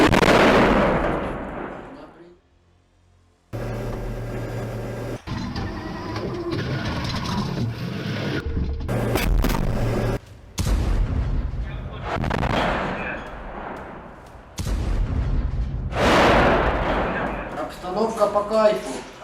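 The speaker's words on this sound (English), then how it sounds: "A Russian T-90 tank continues firing at Ukrainian infantry." A Russian T-90 tank firing at infantry in combat, with loud, sharp blasts and booming reports separated by gaps and sustained rumbling, heard close with speech over the noise.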